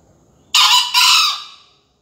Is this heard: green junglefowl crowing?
yes